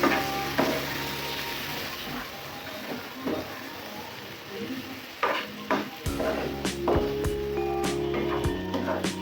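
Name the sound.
stirring Loitta fish with spices in a pan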